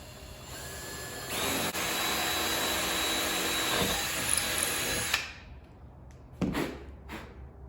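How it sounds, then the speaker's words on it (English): A power drill whirs at high speed for several seconds drilling a hardware hole in a cabinet, then stops, followed by a couple of short bursts and faint handling noise. "get your drill and drill the hole out"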